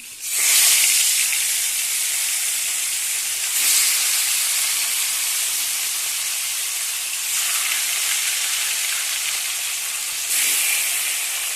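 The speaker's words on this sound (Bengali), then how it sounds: "তেলটা গরম হয়ে গেছে, দিয়ে দিচ্ছি একটু লবণ। মাছগুলো ছাড়বো।" Mrigal fish sliding into hot salted oil in a home kitchen, giving a loud, steady sizzling hiss that swells with fresh bursts every few seconds as pieces are added, with no talking.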